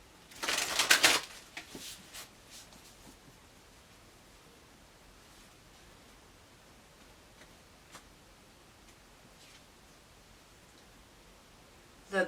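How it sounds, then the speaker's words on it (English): A brief burst of tarot cards being shuffled rapidly, followed by near silence with a few faint taps and rustles. "All right, one more shuffle."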